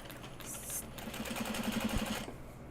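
A sewing machine runs a short, steady stretch of stitching on a seam with a generous allowance, moderately loud and close, with a faint rhythmic hum and light handling noise around it.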